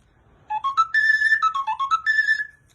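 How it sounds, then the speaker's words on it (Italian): A larger fiscaletto, a Sicilian whistle pitched in A, plays a short melodic phrase of about a dozen clear, breathy notes. The notes sit fairly low for a whistle and sound close and alone. "questo è un fiscaletto in La. È più grande ed è più basso."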